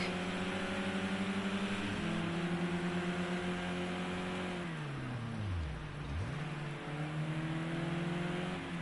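Several race cars scream around the Imola circuit in Project Cars, engines droning at high revs in close formation, one dipping sharply as it brakes and downshifts mid-pass before climbing again, continuous and fairly loud.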